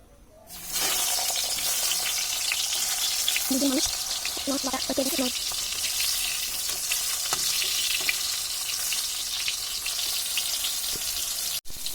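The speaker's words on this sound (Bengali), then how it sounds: "এবার দিয়ে দেবো পটল। এখানে পটল ভাজা হবে।" Sliced pointed gourd sizzles and fries in oil in a pan after eggs were fried in it, a loud continuous crackle with short stirring clinks and scrapes partway through.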